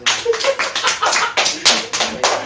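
A small class audience claps for a student presenter in an Indonesian teaching session, several close, uneven bursts of hand claps in quick succession.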